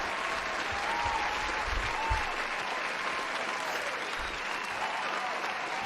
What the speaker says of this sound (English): Let's give everybody who took that trade a round of applause.